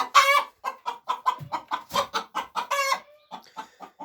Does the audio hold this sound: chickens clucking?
yes